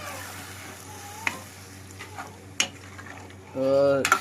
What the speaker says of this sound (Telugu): మన చికెన్ ముక్కలు వేసుకొని బాగా కలిపేద్దాక